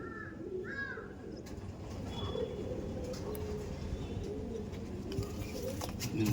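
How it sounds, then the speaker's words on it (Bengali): Andhra pigeons, semi-adult males, give soft low coos and calls close by over a steady ambient hum, with a faint voice in the background. "দেখুন এই একটা নর পায়রা ছাড়লাম"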